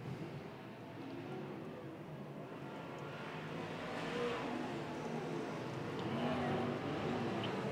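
Race cars circle a track during a championship points race, their engines a steady, distant drone that swells slightly over several seconds while an announcer's voice runs over the top.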